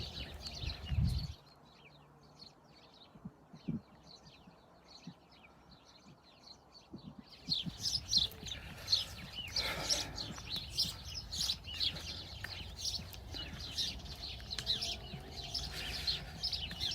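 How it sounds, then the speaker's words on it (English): Birds chirp and coo around a church, faint at first, then a busier chorus of high twittering calls joins in, scattered and fairly close, with no talk. "It'd be beautiful and peaceful if it wasn't for all these blinking birds."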